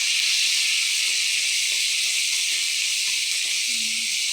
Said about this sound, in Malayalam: കൂടുതൽ കറിവേപ്പിലയും കൂടി ഇട്ട് നമ്മൾ വഴറ്റി കൊടുക്കാം നല്ലതുപോലെ